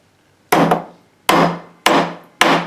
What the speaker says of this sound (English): we hammer it.